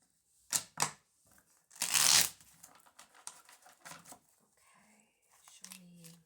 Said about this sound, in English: I'm just gonna shuffle a few times.